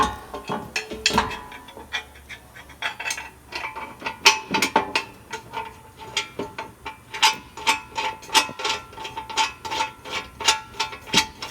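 Ratchet tightening bolts while a rear bumper goes onto a 1993-1998 Jeep Grand Cherokee: close, rapid metallic clicking comes in repeated bursts with brief pauses, and there is no talking.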